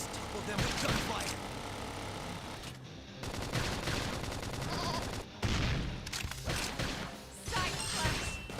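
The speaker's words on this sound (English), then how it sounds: "We can just topple them with gunfire." Dense bursts of gunfire, crashes and impacts pile up in a chaotic battle in Xenoblade Chronicles X: Definitive Edition, with voices talking over the rapid shooting.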